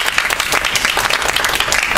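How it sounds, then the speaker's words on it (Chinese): An audience at a Chinese-language public speaking club meeting claps steadily for two seconds, a dense, even round of applause with no talking. "大家给他一个掌声"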